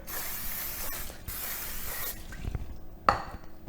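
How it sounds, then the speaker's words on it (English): A continuous hissing spray of non-stick cooking spray onto an air fryer for a couple of seconds, cut by brief pauses, followed by a quieter spurt and a light clatter. "So get your non-stick cooking spray."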